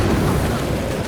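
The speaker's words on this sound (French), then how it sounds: "Attention les jeunes, grenade." Grenade explosion in the video game Space Marine 2, a loud sustained rumbling blast that fills the whole moment without any voice over it.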